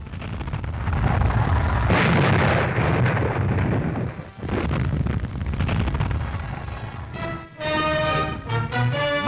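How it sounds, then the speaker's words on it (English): Heavy, continuous booming underwater depth charge explosions attacking a U-boat, deep rumbling, loud and sustained, dropping out briefly before a final burst with a ringing, tonal resonance. "We attack with depth charges."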